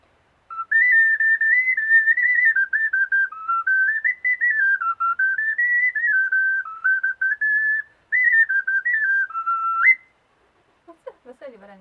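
Handmade clay toy whistles decorated with eyes, noses, mouths and tufts are blown in a sustained, wavering high-pitched whistle for about ten seconds, followed by a few faint short chirps.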